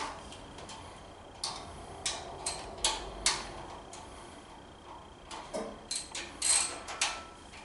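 A tool loosens the four valve cover bolts on a Champion generator. It gives faint, sharp clicks in two separate runs, with short gaps between them in a quiet room.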